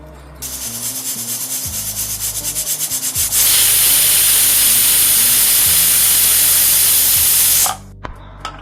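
A pressure cooker cooking Bukhari chicken and rice hisses loudly, first in rapid pulsing puffs, then as a sustained, forceful steam jet before cutting off abruptly.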